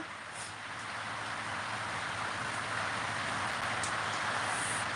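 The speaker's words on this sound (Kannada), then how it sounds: "ಮಳೆ ಬರ್ತಾ ಇದೆ ಫ್ರೆಂಡ್ಸ್" Steady rain falls throughout, a continuous broadband patter with no break, moderately loud, with faint rumbling in the background.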